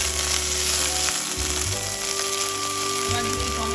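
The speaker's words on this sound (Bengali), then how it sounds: "এবার ফোড়ন দিচ্ছি 4টি তেজপাতা, 2টো শুকনো লঙ্কা, জিরা আর গোটা গরম মশলা।" Bay leaves, dried red chillies, cumin and whole garam masala spices sizzle in hot oil as a tempering for pea ghugni, a steady close crackle under soft background music.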